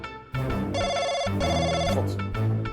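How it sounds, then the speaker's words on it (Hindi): A telephone rings in steady repeated bursts, loud and close, with no talking over it. "फोन आ रहा है।"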